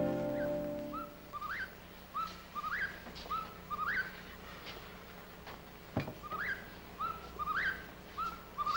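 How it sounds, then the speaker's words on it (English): A whippoorwill calls repeatedly at a steady rhythm, each rising three-note phrase clear but somewhat distant, with a faint thump partway through. "Hear that whippoorwill?"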